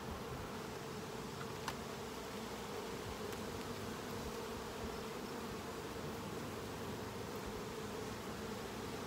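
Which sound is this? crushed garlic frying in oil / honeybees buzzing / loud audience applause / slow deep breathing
honeybees buzzing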